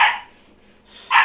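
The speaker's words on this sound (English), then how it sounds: "you can hear the puppy in the background barking his head off" A puppy barks in the background, two high yaps separated by a short pause, fairly loud with no talk over them.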